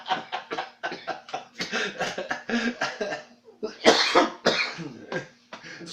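A man with a cold coughs in a rapid burst of harsh, close hacks, pauses, then breaks into another fit mixed with throat clearing and some laughter.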